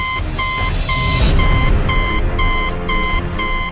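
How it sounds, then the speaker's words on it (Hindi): A fingerprint-checking machine with a glowing red light beeps loudly in a fast, regular train of sharp electronic pulses, alone with no talk. "उसके अंदर एक लाल बत्ती जल रही थी और वो जोर जोर से बीप कर रही थी।"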